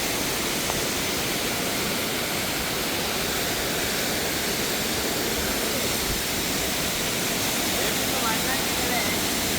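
The Nalagana waterfall roars as a steady, dense rush of water, loud and unbroken throughout, with no other sound clearly standing out.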